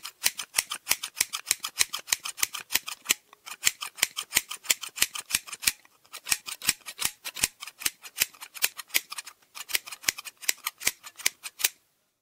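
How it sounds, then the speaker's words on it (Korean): Large silver scissors snip through long hair in a rapid train of crisp, close metallic cuts, sounding alone with a few brief pauses between bursts. "뿌리 근처에 가위를 갖다 대고 천천히 닿는다."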